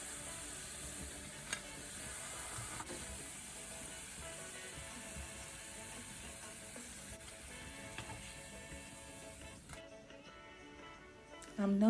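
Plantains fry in hot oil in a home kitchen, a steady broadband sizzle and crackle that holds fairly even throughout, with a few sharper pops and a brief louder clatter at the very end.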